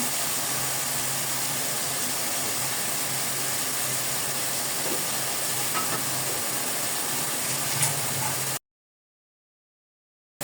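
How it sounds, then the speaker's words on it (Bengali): Eggplant pieces sautéing in a pan with spices and salt give off a steady, even sizzling hiss that runs unbroken for about eight seconds, then cuts to silence; nobody speaks. "সবজিটাকে এভাবে কষিয়ে নেব।"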